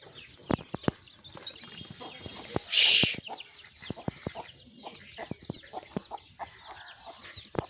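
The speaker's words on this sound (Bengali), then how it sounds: "আমার এই মুরগিটা তার বাচ্চাকে খাওয়াচ্ছে" A hen clucks softly while feeding her ten chicks on bran near ducks, with quick, close pecking taps and a brief burst of wing flapping partway through.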